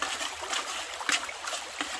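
Water running steadily while gravel and quartz are fed slowly into a gold prospecting setup, a continuous close hiss and trickle with faint splashes and no voices.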